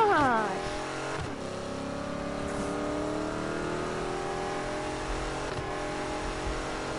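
A 1965 Ford Mustang GT in the Need for Speed racing game accelerates hard, its engine note climbing steadily and dropping briefly at two gear changes before rising again, loud and continuous, with a voice talking over it.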